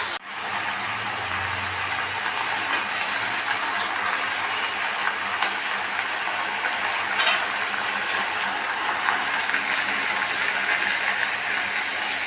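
Vegetables and bottle gourd greens stir-frying in oil in a pan, a steady broadband sizzle with occasional scraping stirs, close and fairly loud, no talking.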